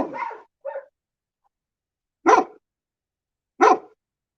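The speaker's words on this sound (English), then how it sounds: "The dogs are all acting lunatical this evening." Dogs bark on a farm at night, four separate barks at uneven intervals, two quick ones and then two louder, deeper ones spaced apart, with silence between.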